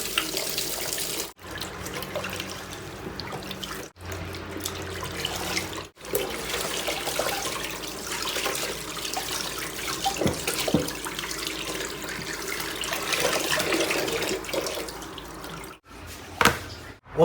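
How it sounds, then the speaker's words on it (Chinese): Running tap water splashes in a kitchen sink while a cleaned fish is scrubbed inside with steel wool, a continuous close wash of water broken by several brief pauses. "我们还是用钢丝球把里面黑膜打一下哈。"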